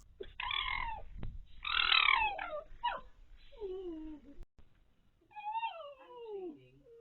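A fox calls at an evening feeding with cubs nearby, giving a series of high, wavering squawks and yelps at close range, with brief pauses between the cries and no talking.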